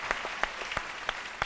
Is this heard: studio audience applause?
yes